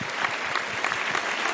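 A studio audience claps for host Waseem Badami on a Ramzan iftar quiz show: a short, dense burst of steady applause that fills the whole moment with no voices on top.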